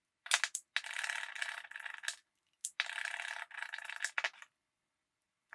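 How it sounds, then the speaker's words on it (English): A sprinkler hose is trimmed into small pieces in a woodworking shop, producing two bursts of dry, crunchy cutting and rattling up close, with short pauses between them and then quiet. "I'm just going to trim it down into small pieces and slip it on the jaws."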